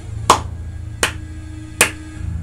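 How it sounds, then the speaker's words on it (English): Three sharp hand claps, spaced evenly about three quarters of a second apart, loud and close over a steady low hum of video game background music. "I'm clapping, in case you haven't noticed yet."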